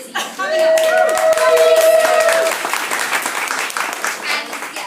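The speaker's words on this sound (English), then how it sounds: "So I'd like us to all clap Lizzie." An audience at a charity meetup panel clapping for a panellist, loud dense applause rising quickly and gradually thinning, with a brief voice and a tonal ring at the start.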